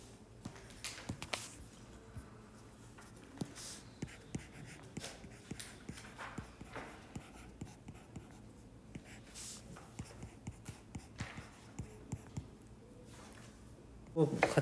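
Pen or pencil scratching answers onto paper during a high-school science worksheet, a steady run of small faint strokes and taps with quiet rustles and breaths, no speech.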